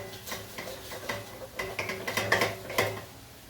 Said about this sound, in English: So I'm just gonna mix them up a little bit, shake it up